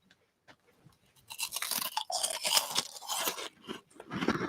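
Crunchy almond leaf wafer candy, a light toffee on a crisp wafer, chewed close up in steady loud crunching bites after a brief quiet start.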